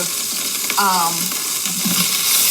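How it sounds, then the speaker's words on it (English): Onions hit the hot fond of a pressure cooker with a steady frying hiss, and a brief squeaky scrape of a utensil cuts through partway. "So I'm actually adding in the onions. And we're going to sear these a little bit."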